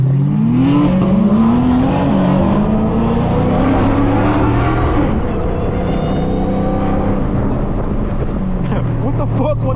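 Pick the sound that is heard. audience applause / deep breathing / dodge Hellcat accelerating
dodge Hellcat accelerating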